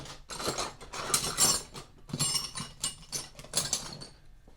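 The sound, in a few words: wrench tightening a nut on a differential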